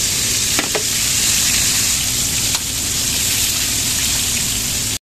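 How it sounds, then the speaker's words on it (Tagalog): Salmon frying in a pan gives a steady, dense sizzle that runs unbroken and fairly loud throughout, with no talking. "Iprito muna tayo bago tayo magsersyado guys."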